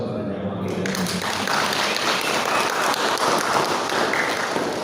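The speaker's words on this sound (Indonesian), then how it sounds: "Kita berikan aplaus kepada jamaah kita." Audience applause fills a meeting hall at the opening of a new pilgrim-guidance office in Cirebon: dense, steady clapping from a crowd, loud and sustained throughout.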